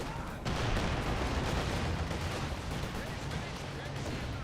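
Artillery barrage in Company of Heroes 2, with loud, dense rumbling explosions and crackling impacts hitting one after another without pause. A commentator may be speaking over the battle.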